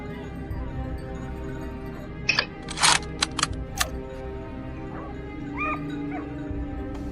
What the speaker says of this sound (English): As the barking grew louder,